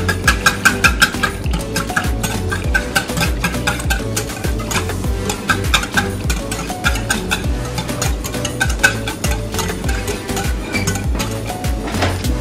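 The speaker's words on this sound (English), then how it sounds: "Whisk." Fast, steady whisking of onion powder, garlic powder, black pepper and smoked paprika into a baked macaroni and cheese mixture, the whisk rapidly clinking against the bowl, close and continuous.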